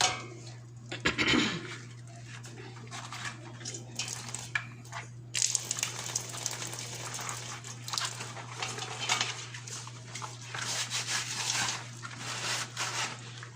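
Dishes being washed at a home kitchen sink, with scattered clinks and clatters of plates and cutlery under a steady low hum and running-water hiss, mostly close and moderately loud.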